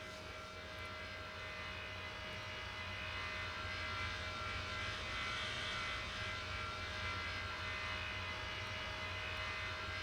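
JetBlue jet airliner at Raleigh-Durham airport in an air traffic control tower simulator game, a steady distant engine roar with a faint continuous whine, held at low volume for the whole stretch.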